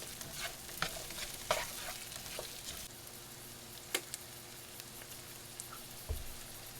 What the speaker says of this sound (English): Give it a stir, let it get some of that extra virgin olive oil all over it.